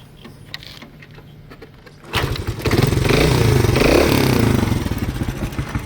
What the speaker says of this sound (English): Beautiful Honda engine.